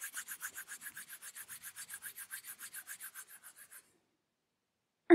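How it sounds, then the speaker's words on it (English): Palms rub together in a quick, even back-and-forth rhythm, close and soft, about twenty strokes that gradually fade before a brief silence and a sudden sharp sound at the end. "rub your palms together."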